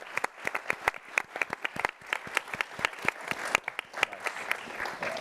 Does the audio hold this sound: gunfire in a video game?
no